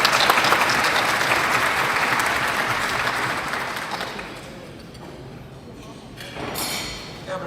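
Sustained applause from an audience at an optimal aging awards ceremony, loud at first and gradually thinning out, with a brief swell of clapping near the end.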